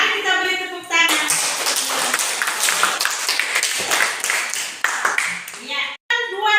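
A school class claps hands together in a fairly loud, busy burst lasting several seconds, with a child's and a teacher's voice heard briefly at the start and end.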